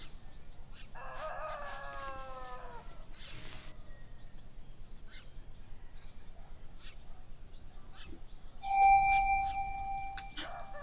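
A fighting rooster crows once at a cockfight, a drawn-out call at moderate distance over a low background murmur, followed later by a steady electronic tone.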